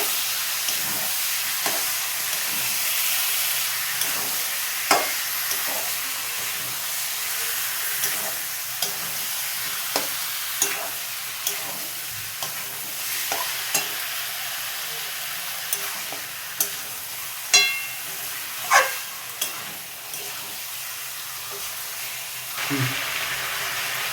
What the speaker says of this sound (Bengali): এবার মশলা দিয়ে একদম ভালো করে আমি নাড়াচাড়া করব